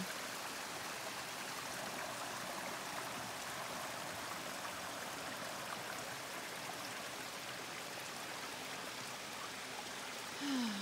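A mountain stream on the Tahoe Rim Trail near Gilmore Lake rushes and babbles in a steady, even wash of flowing water, fairly soft and continuous throughout, with no voices.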